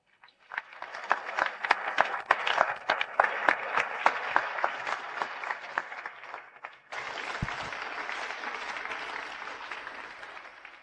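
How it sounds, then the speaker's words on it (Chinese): A seated audience at a fashion design show breaks into warm applause, dense rapid clapping that swells quickly, briefly dips, then carries on as a steady wash of hands. "让我们用最热烈的掌声，有请涅槃的创作者、新锐设计师许清如上台"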